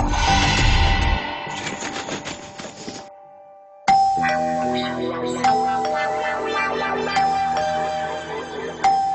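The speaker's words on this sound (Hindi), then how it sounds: "घंटी पे घंटी बजाए चले जा रहे हैं" A doorbell chimes over and over, ding-dong tones repeating in quick succession with a brief quiet gap, then ringing again insistently and loud.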